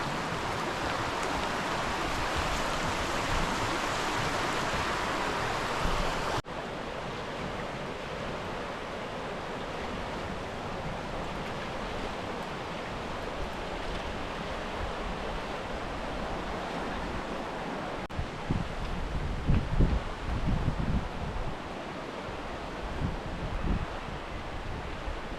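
Rushing water at Pupu Springs fills the scene as a steady, loud broadband roar, mixed with gusty wind buffeting the microphone, with no voices over it.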